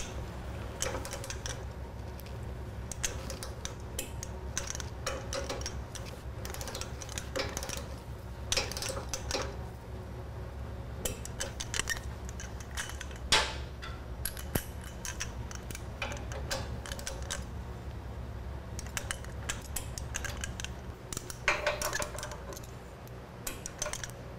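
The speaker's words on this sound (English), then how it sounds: "Torque down the bolts on the frame." Torque wrench on the frame bolts of a 2011 Harley Davidson Street Glide during a drop kit install gives off a long run of close, irregular metallic clicks and ticks over a low steady hum.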